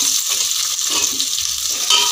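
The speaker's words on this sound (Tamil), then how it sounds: "இப்போ ஆனியன் ஓரளவுக்கு ஃப்ரை ஆகிடுச்சு." Continuous crackling sizzle of sliced onions frying in hot oil in a pan, with soft stirring scrapes mixed in, close and steady.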